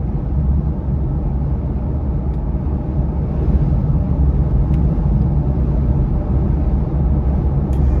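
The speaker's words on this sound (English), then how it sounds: "You can kind of hear what it sounds like with the wind coming again kind of this way across the truck." Steady, dense wind buffeting and low road rumble inside a Jeep Gladiator pickup on the move, a continuous roar without breaks and no voices.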